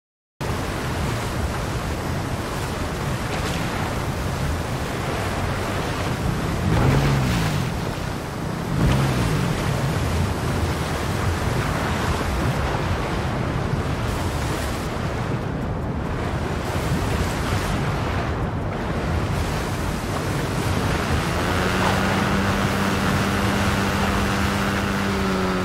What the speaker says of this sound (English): You can hear the faster flow sound in the gameplay, which adds to the immersive experience of navigating through a river.